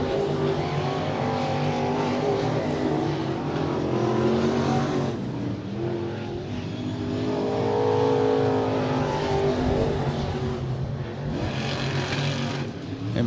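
Modified race cars roar around the Strawberry Cup race track, engines loud and sustained with rising and falling revs as cars pass close by, the drone swelling and easing in waves throughout.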